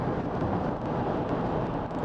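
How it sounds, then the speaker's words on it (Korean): A constant, broadband wind rush fills the cabin of a Honda CR-V Hybrid at about 100 km/h, steady and fairly soft. "잔잔한 바람 소리 정도가 들리네요."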